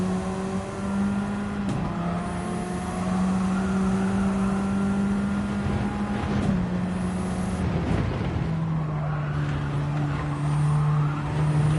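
A Radical race car engine lapping Road Atlanta in a racing video game, holding a loud, steady drone with a few brief dips and shifts in pitch as it changes gear.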